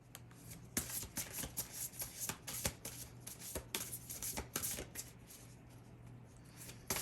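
A deck of oracle cards being shuffled close up, a busy run of riffling, flicking and slapping bursts that continues steadily for several seconds with no talk.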